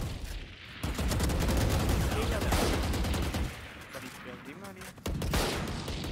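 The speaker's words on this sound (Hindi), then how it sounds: "यार ये बड़ी प्यारी गन है वेंडल" Vandal rifle fire in a Valorant esports match, bursts of rapid shots dense and loud, breaking off briefly then resuming, with voices talking over the action.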